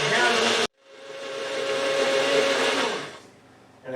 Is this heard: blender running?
yes